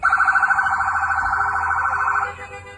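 Sirens from federal law enforcement vehicles closing in on an SUV wail with a rapid warbling yelp, loud and steady for about two seconds before cutting off abruptly.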